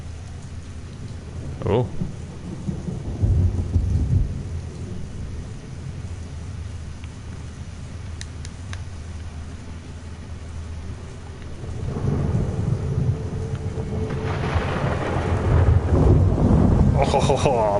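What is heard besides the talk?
thunderstorm with rain in Rapture video game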